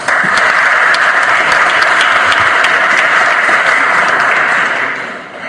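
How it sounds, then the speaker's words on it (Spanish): Dense, sustained applause from an audience at a Peruvian supreme court plenary session, loud and steady for about five seconds before tapering off at the end. "Lo recibimos con un fuerte aplauso."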